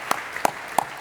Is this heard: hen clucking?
no